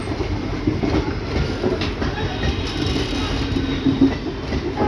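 An Indian Railways WDP4D diesel locomotive hauls the Kasganj–Kashipur passenger train, with rumbling wheels and rhythmic clickety-clack of coaches rolling past nearby.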